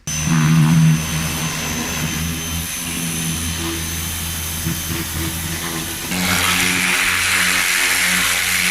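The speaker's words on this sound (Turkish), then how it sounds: "kompresör yardımıyla üzerindeki bütün yağların hepsini temizleyeceğiz" Compressed air from an air compressor blasts oil off a motorcycle engine block in a steady, loud, close hissing roar that grows harsher and stronger toward the end, with no talking.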